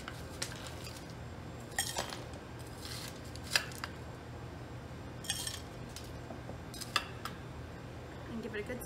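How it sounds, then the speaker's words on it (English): Crushed ice scooped into a cocktail glass while making a mint julep, scattered crisp clinks and icy rattles in short bursts, close and fairly quiet over low background noise. "let's scoop some of our crushed ice in there"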